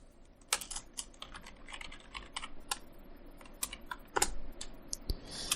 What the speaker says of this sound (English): And we're going to just type this in